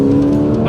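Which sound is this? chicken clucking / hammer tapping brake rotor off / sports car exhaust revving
sports car exhaust revving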